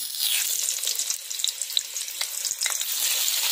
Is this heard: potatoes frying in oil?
yes